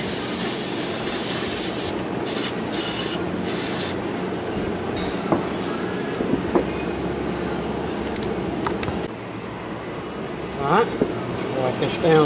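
Cleaner is sprayed to rinse off a .22 revolver during cleaning, making a steady, loud, close hiss that continues for the whole stretch with a few faint clicks and taps.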